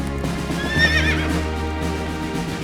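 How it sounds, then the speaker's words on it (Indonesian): Horse whinnying loudly in an open rural setting in East Sumba, Indonesia, where children ride horses; one rising, quavering neigh near the middle over a steady low rumble, with faint hoof clip-clop beneath. "Tuh lihat, setiap anak sangat mahir menunggang kuda,"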